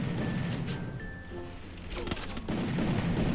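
Bursts of rapid gunfire crackle in the Free Fire video game, with several quick volleys and clinks at moderate level under a noisy game background.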